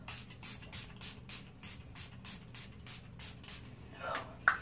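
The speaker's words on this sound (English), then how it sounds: "So I'm going to go ahead and use this and spray my face." A Milani Make It Last setting spray is misted onto a face in a series of short, evenly spaced hissing bursts, close and moderately loud, with a brief rustle at the end.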